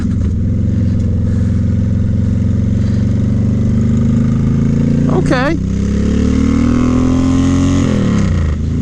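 A Suzuki C90T motorcycle engine idles loudly and steadily up close, with a low rumbling throb that rises slightly near the end; someone speaks a brief word over it.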